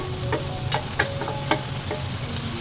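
Pork and onions being stir-fried in a pan for a Filipino sari-sari dish, a soft steady sizzle with scattered scraping clicks as the spatula stirs, close up with no talking.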